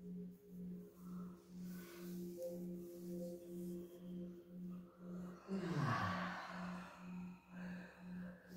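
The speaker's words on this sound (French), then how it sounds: "je vous invite à bailler 6 fois" A single person's yawn during a guided meditation in the Hautes-Pyrénées, one drawn-out breathy yawn with a falling vocal tone, close and fairly soft over a steady pulsing hum in the background.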